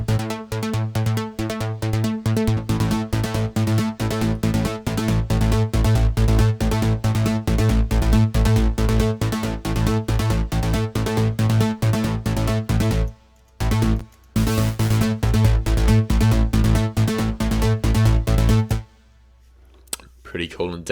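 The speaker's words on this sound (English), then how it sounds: "we're going to be using the pluck sound as a bass" A synth pluck patch pitched down an octave and used as an uplifting trance bass plays a fast, steady repeating note pattern. It drops out briefly twice near the end before stopping.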